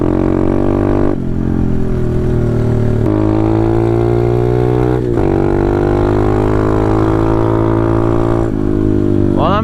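A Taotao DB17 125 pit bike engine runs steadily up close throughout, a loud, continuous mid-pitched drone whose pitch shifts slightly with throttle changes every couple of seconds.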